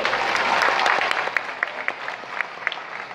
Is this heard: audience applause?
yes